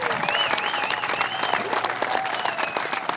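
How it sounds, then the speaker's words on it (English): Applause from an audience for the American Legion Post 178 post commander at a benefit motorcycle ride in Murrells Inlet, steady dense clapping filling the whole moment with a few faint voices mixed in. "I want you all to give a big round of applause."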